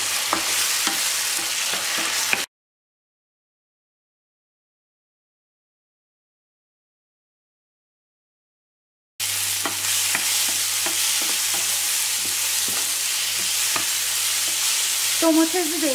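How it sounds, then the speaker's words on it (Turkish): Onions and pine nuts sizzle and crackle while being stirred as they fry in a pan, cutting out into silence partway and then resuming. "Soğanlar ve dolmalık fıstıklar bayağı kırmızılaştılar, kızarmaya başladılar gördüğünüz gibi."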